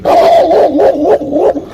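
A large dog barks loudly and close by in a quick run of deep, rough barks, alone with no other sounds.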